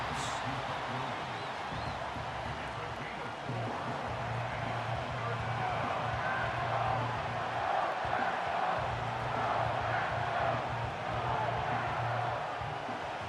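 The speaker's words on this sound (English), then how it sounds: "The crowd making their presence felt." Steady stadium crowd roar in a Madden NFL 25 football game between the Steelers and Packers, a continuous dense murmur filling the background for the whole stretch without clear peaks.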